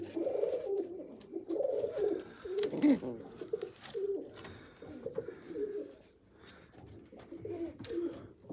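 A calm pair of black-sided fancy pigeons, still damp from bathing, coo close by in a series of low, rolling, repeated calls with brief pauses between phrases.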